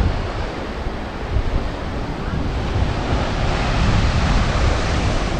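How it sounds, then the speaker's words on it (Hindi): Sea waves at Kanyakumari, where the Bay of Bengal, Arabian Sea and Indian Ocean meet, roar loudly and continuously with heavy wind buffeting the microphone and swelling surges of surf. "ये खूबसूरत सा हमारा समुद्र जो अब बे ऑफ बंगाल, अरेबियन सी और इंडियन सी मिलकर बना हुआ है"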